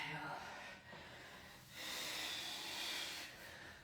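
During a lower-body workout, a person takes slow, audible breaths, a drawn-in inhale followed by a longer hissing exhale. The breathing is faint and close.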